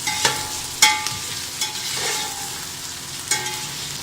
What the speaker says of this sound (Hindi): ये देखिए फ्राई होना शुरू हो गया है